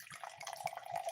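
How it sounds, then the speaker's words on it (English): White Zinfandel wine pours into a goblet in a brief, faint, steady trickle with light splashing, heard alone for just over a second. "That's a sound of wine pouring"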